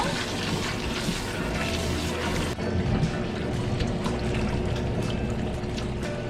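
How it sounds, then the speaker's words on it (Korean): Blanched napa cabbage is rinsed under cold running water for a chilled seaweed soup, a steady loud splashing pour with a brief dip partway through and no talk. "배추인데요. 여기 찬물에 헹궈줄게요."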